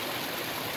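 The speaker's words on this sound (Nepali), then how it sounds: "यहाँ पानीको कुलो सललल बगिरहेको छ" Water flows continuously through an irrigation channel beside hillside rice paddies being planted, a soft, even rushing heard alone at a low level.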